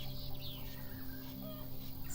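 Chickens cluck on a farm in the video game Farm Manager 2018, with soft, steady clucking set against a constant tonal background of game ambience.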